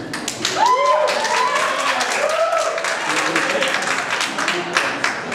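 Comedy club audience claps and cheers in a fairly loud burst that tapers off, with a comedian talking over the applause.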